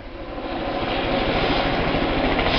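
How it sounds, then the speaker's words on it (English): A helicopter approaches Lonesome Lake hut in the White Mountains of New Hampshire, its engine and rotor roar building and staying loud and steady throughout, with no voices. "Here comes the helicopter to pick up the men that work at the hut."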